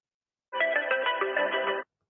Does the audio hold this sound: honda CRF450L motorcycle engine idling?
no